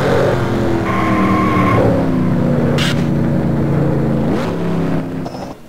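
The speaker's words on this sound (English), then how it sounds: "That truck was sliding straight in front of her about the same speed and everything" Race trucks in a stock truck series on a North Carolina track roar at close range with shifting engine pitch as one slides and skids, a brief squeal partway through, then the noise drops away at the end.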